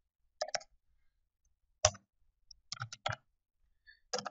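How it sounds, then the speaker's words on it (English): Code being typed on a computer keyboard: sparse, crisp key clicks in short clusters separated by silent pauses, close and fairly quiet. "In process payment, I'm just going to type console.WriteLine."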